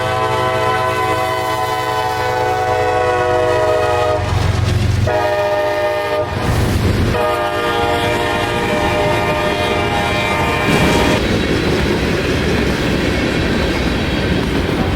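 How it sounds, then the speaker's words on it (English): A freight train of loaded rock cars, with an SD70 locomotive trailing, rolls past close by with a steady rumble and clatter of wheels, while its horn sounds in long blasts. "L743 passes by with an SD70 trailer with a full train of loaded rock"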